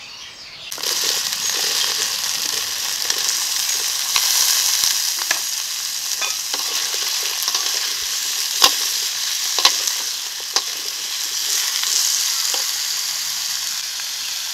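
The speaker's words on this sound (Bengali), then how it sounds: "আদা জিরে ও লঙ্কাটা ভেজে নিয়েছি, এখন কুমড়োটা দিয়ে দেবো।" Pumpkin fries in a pan with ginger, cumin and chilli, giving a loud steady sizzle with occasional sharp clinks and scrapes of a stirring spoon.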